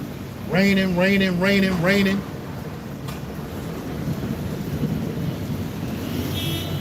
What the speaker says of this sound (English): I don't know if y'all can hear that thunder in the background.